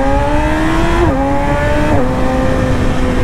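A Yamaha R6 motorcycle engine runs loud and close, its steady whine holding high before dipping in pitch twice in quick succession as the revs settle.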